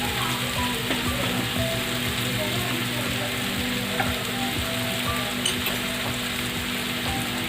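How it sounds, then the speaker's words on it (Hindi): Fish fries in a pan with a constant, close sizzle, joined by occasional light scrapes and small crackles from start to finish. "तरह से हम इसको फ्राई कर रहे हैं"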